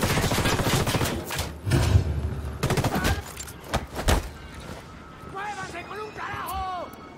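Gunfire in Ghost Recon Wildlands: several loud bursts of automatic fire and single shots crack close by, with heavy thuds at intervals and a voice talking over the shooting.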